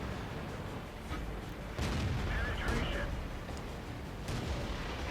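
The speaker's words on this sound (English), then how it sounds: "Oh, there's artillery shooting at me." Artillery shelling in World of Tanks aimed at an M6 heavy tank, heavy booming impacts and rumbling blasts swelling over a constant noisy battlefield bed.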